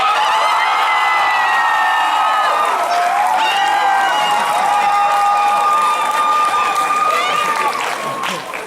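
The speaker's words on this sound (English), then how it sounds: "Clap if you vote for Lumpy Space Princess!" A convention crowd at an anime panel cheers, shouts and whoops loudly and continuously, with high excited voices and some clapping mixed in, tapering slightly at the end.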